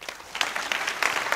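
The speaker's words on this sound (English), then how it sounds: "give Jesper a warm" An audience gives a speaker a round of applause at a finance talk on Japan, a brief burst of dense clapping from a crowd.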